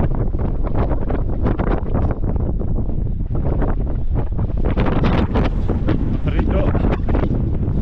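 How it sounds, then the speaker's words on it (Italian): Strong gusting wind buffets the microphone high on the slopes of Mount Etna during a ski-mountaineering ascent, a loud continuous roar with surging gusts throughout. "sto provando a salire sull'Etna, ma c'è un vento micidiale"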